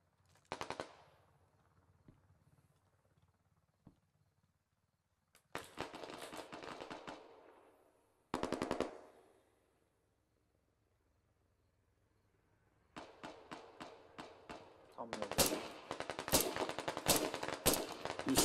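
Gunfire in the military shooter Squad: separate bursts of rapid automatic fire, some sharp and close, separated by quiet gaps, then sustained heavy firing toward the end.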